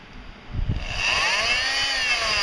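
An oscillating multi-tool starts up close by and settles into a steady, high buzzing vibration as its saw blade oscillates rapidly.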